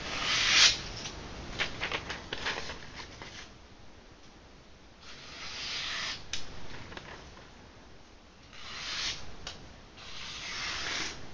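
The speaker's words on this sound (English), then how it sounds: "just listen to how cleanly it goes through that paper" A freshly reground fixed-blade knife, reground from hollow to full flat grind, slicing through a sheet of paper: several soft hissing, rasping cuts in bursts, close and quiet, with no talking.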